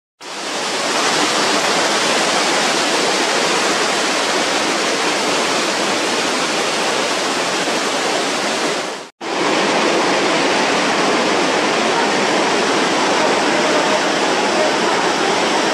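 Loud, steady roar of a waterfall about 80 metres high on the Rio Pastaza in Ecuador, broadband and continuous, with one abrupt cut partway through.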